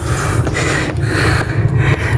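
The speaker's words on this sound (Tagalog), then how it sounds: "Medyo hinihingal na rin ako." Heavy, rapid breathing close to the microphone from a hiker climbing the mountain called the Grotto in Bamban, Tarlac, with loud rhythmic gasps over rushing background noise.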